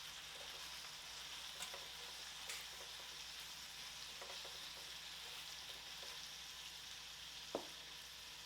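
Chicken wings frying in butter, a faint steady sizzle with a few soft taps and one sharp knock near the end, quiet and without talk.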